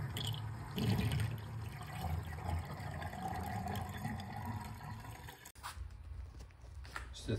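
Rinse water sloshes and pours out of a rusty motorcycle fuel tank in a steady, splashing stream, close by and fairly soft, then breaks off abruptly before a short trickle resumes.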